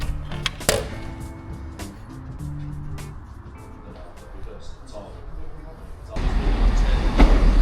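A train in Wales rumbles along with clicks and clunks of the carriage, a steady moderate interior drone that swells louder near the end, with a voice talking over it.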